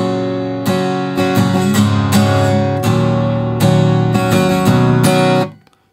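An electric-style guitar tuned down a half step strums the verse of a song. Loud, ringing chords are struck in a rhythmic pattern for about five seconds, then cut off. No voice is heard.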